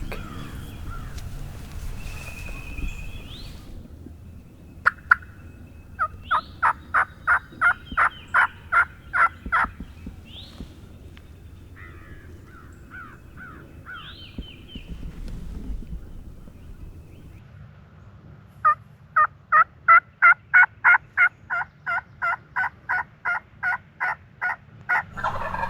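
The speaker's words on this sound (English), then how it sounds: "Alex, I can hear him spit drumming right here" A wild turkey gobbler gobbles repeatedly in a rapid, rattling series, up close and loud, with bursts at the start, middle and end, while low spit-drumming rumbles underneath in the quieter stretches between calls.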